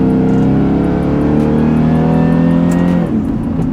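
A 700 hp Jaguar super sedan pulls hard after quick paddle downshifts, its engine droning loud and close with a rising, harmonic-rich roar that shifts pitch near the end; no talking.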